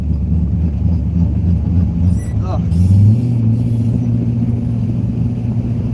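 Chevrolet C5 Corvette engine idling with a heavy low rumble and cabin vibration, steady and close, swelling slightly partway through, with someone talking over it.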